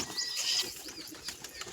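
A pigeon flaps its wings in a brief, quick burst at close range, followed by softer fluttering and a few faint rustles.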